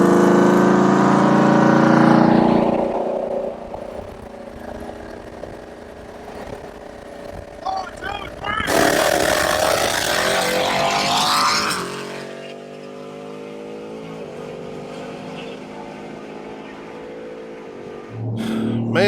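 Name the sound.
pickup trucks racing, engines roaring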